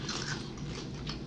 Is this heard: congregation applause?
no